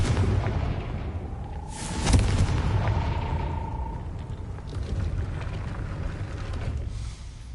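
A Confringo blasting spell explodes in Hogwarts Legacy, a single deep boom rising out of a dense, rumbling game soundscape and fading into a sustained low roar.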